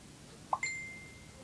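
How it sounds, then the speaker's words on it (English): A phone gives a short notification chime: a soft blip, then a bright ringing tone that lingers and fades, heard alone in a quiet room. "Sorry, that's my phone."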